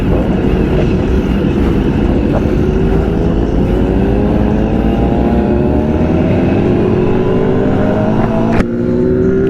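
A BMW S1000RR sport motorcycle rides on a Dallas freeway, its engine droning loud and close with steadily rising pitch as it accelerates, wind noise blending underneath and a sharp click near the end.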